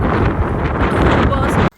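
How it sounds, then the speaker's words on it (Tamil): Strong wind buffets the microphone outdoors in Iceland, a dense, loud continuous roar lasting nearly two seconds before cutting off abruptly. "அடிக்கிற காற்று உங்கள் காதில் உழுதான்னு தெரில"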